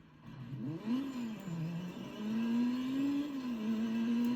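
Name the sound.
car accelerating in the video game Burnout Legends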